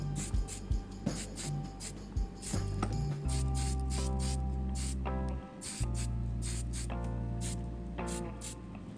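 Aerosol primer sprayed onto plastic scale model bodywork for a Lotus 33 build, short hissing bursts mixed with clicks and tonal hum, fairly quiet and close.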